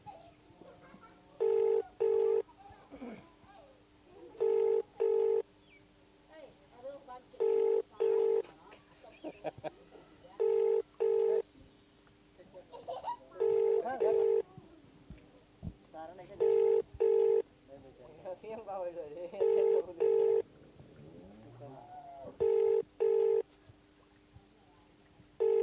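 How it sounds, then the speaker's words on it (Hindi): A telephone rings out unanswered while calling a secretary, its paired electronic ring tones repeating about every three seconds for the whole stretch, loud and clear, with a voice talking and background chatter in between. "देखिए रिंग तो जा रहा है, लेकिन रिंग कट गया।"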